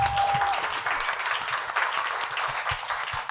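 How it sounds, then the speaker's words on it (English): An audience applauds a panel at a music and money industry event: steady, dense clapping from a large crowd, continuous and fairly loud throughout. "Big round of God. applause for this incredible panel."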